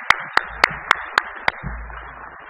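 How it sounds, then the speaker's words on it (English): After a presentation on an applied accordion department, a few people clap: six sharp, evenly spaced claps that fade out quickly, sparse rather than a full round of applause. "Let's another round of applause"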